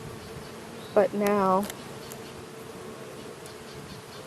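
Honeybees swarm a new hive's top super with a steady, even buzz filling the background, while a voice briefly speaks over it.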